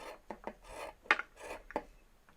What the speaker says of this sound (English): I'm just going to cut a pair of straps that are 1 inch wide